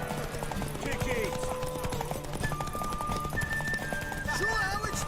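Hooves clip-clop in a steady run with a horse whinnying in The Witcher 3, set against busy background game music and effects, all fairly loud and close.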